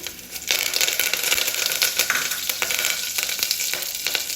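Crushed garlic and curry leaves drop into hot oil for tomato sambar, erupting almost at once into a loud, close, dense sizzle that holds as a steady crackling hiss.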